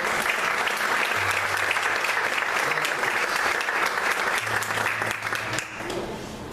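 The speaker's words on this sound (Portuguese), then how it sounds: "Você pode aplaudir ao Senhor." A church congregation applauds steadily after a call to praise, a dense, even wash of clapping that fills the space at a constant level, with a low sustained hum running beneath it.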